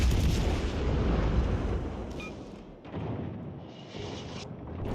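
Warship guns in World of Warships Legends roar in heavy, rumbling salvos, one long booming volley at the start and more blasts later, loud and reverberant with no talk over them.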